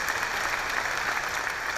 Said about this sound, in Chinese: 我们再给爱多美一个热烈掌声鼓励一下